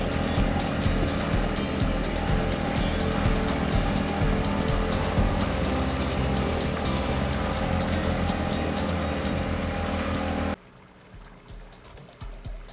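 A Mercury ME 9.9 outboard boat motor runs loudly and steadily for about ten seconds at under half throttle, around 3000 rpm, then cuts off abruptly, leaving quieter background noise.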